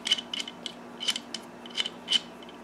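Fittings being threaded onto an oil catch can until they seat against rubber gaskets, giving small scattered metallic clicks and light ratcheting ticks over a quiet background.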